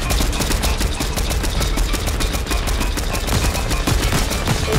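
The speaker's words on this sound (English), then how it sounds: "Someone has a ray gun." Rapid-fire ray gun blasts in an online multiplayer video game, a loud continuous stream of dense, machine-gun-like shots with no pauses.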